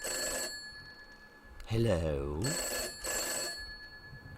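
A telephone rings in a video game, two bursts of a bright electronic bell about a second apart, with a spoken voice and a sweeping tone between them.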